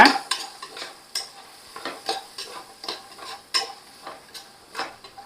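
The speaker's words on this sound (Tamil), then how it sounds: "அரை கப்பு பச்சை பட்டாணி வச்சுருக்கேன் அதையும் நான் ஆட் பண்ணிக்கிறேன் நல்லா கலந்து விட்டுக்கோங்க" Green peas being stirred in a pan with hot oil and masala for jeera peas pulao, giving a steady run of close scraping, clinking strokes over a light sizzle, with no talking.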